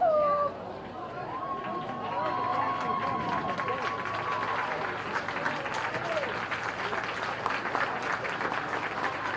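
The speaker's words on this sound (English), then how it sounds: "Nice round of applause" Crowd applause at a high school prep baseball game between Destrehan and Hahnville, a steady broad clapping wash lasting several seconds with a commentator talking over it and whistle-like tones early on.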